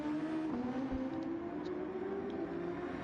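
Super Formula race cars revving to about 11,000 RPM at Interlagos in a racing video game, a steady high-pitched engine drone that shifts slightly in pitch, loud and continuous with no talk.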